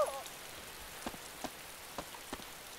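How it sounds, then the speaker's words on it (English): Rain falling in the video game DayZ, a soft steady patter on surfaces with a few sharper drips standing out, fairly faint and with no one talking. "It's raining."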